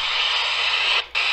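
A Baofeng UV-5R Mini handheld radio picks up a weak signal, giving a steady hiss of static with a brief dropout near the end.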